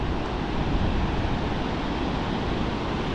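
Water rushes from the single open middle gate of Ambuklao Dam in Benguet, a steady, broadband roar with no breaks, heard alone without voices.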